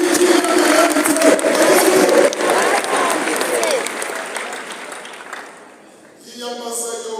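Congregation applauding together in a church during a sermon, a dense sustained clapping that fades out near the end before a voice and music-like tones take over.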